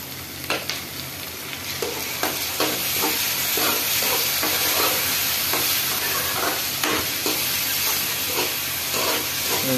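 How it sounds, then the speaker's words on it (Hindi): Onions and tomatoes frying for a dhaba-style egg curry, stirred with a spoon that scrapes the pan in regular strokes over a steady, loud sizzle, with no one talking. "इनको हिला लेंगे अच्छे से।"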